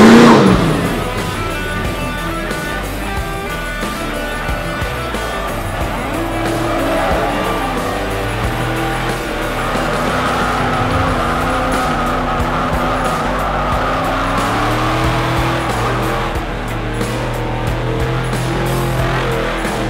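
Menzies Motorsports race truck on a track, its engine roaring loud and close with sustained tire squeal and skidding throughout, pitch rising and falling as it slides.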